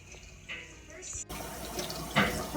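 Tap water runs into a sink while potatoes are scrubbed clean, a steady close splashing that gets fuller and louder partway through, with soft handling knocks under it.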